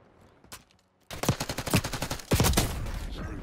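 Rapid automatic gunfire in the Call of Duty Black Ops 6 beta, a short burst followed by a pause, then a sustained rattling string of loud shots with heavier blasts near the end.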